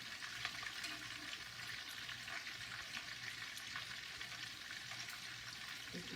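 Meatballs browning in a pan for an Indian krofa dish, a continuous close, even sizzle and crackle of frying with faint stirring, no talking.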